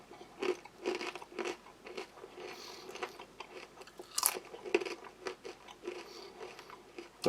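Sea salt pita chips from a kosher MRE are crunched and chewed up close, with a series of crisp bites followed by rhythmic chewing and sharp crackles in a quiet room.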